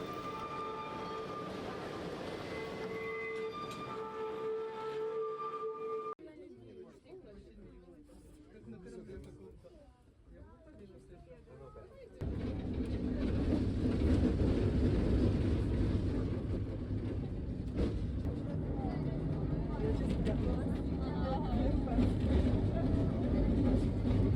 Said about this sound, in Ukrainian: І ось до нас вже приїжджає ретро трамвай Гота Т-59Е